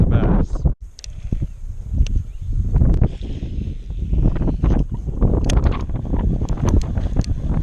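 Strong gusts of wind blowing outdoors by a pond while bass fishing, buffeting the microphone in loud, uneven roaring bursts that rise and fall with the gusts throughout.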